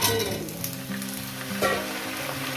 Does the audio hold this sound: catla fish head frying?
yes